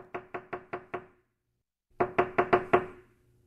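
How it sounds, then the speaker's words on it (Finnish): Knocking on a door in a Finnish ghost-story account, heard as two bursts of five rapid, evenly spaced knocks separated by a pause of silence, the second group louder and closer than the first. "Nyt kuului koputus jo sisäpuolella."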